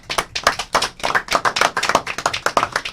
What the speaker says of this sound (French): on peut l'applaudir ici